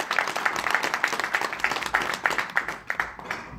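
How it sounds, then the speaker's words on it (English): A modest crowd claps in a quick, fairly even rhythm, individual claps distinct and close, fading slightly toward the end, with no talking. "please, just one big round of applause for Simon"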